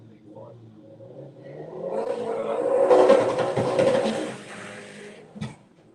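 A drag race car builds from a low rumble to a loud, sustained engine roar as it makes its run, peaking midway and fading, with a brief sharp sound near the end.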